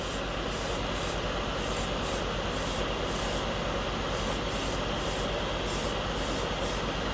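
An airbrush spraying thinned Revell enamel paint gives a continuous, loud hiss throughout, broken by regular soft pulses as the airflow is triggered.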